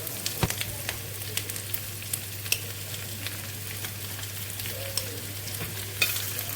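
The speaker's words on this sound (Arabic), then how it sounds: "هلا بعد ما نزلت الدجاج رح قليهم شوي" Chicken and sliced onion fry in ghee with a continuous close sizzle, and a utensil clinks and scrapes against the pan at irregular moments under a low steady hum.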